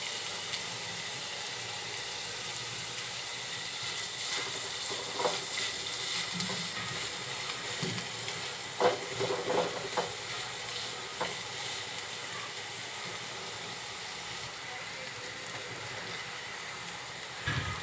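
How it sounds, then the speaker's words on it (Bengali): Quiet, continuous sizzling of onions and green chilies frying in oil, with occasional soft stirring clinks and scrapes. "পেঁয়াজ আর কাঁচামরিচটা একটু ভাজা হয়ে গেলে এতে আমরা"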